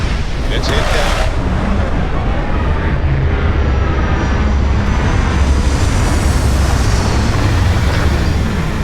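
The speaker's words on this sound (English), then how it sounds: "You're cleared for landing at Aquila City. Landing site is clear. Let's head down." A spaceship descends to land at Aquila City in Starfield with a loud, continuous roar of engines and rushing air, holding steady from start to finish.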